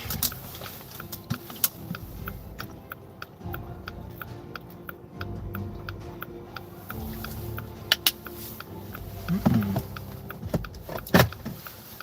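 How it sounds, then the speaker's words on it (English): Car door locks clicking shut, heard as a few sharp, close clicks near the end over a steady low background hum. "I'm gonna lock the doors and the car."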